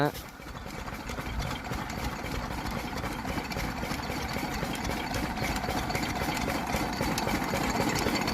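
A vehicle engine idles near a village peanut field, giving a steady, noisy mechanical drone that runs unbroken throughout at moderate loudness.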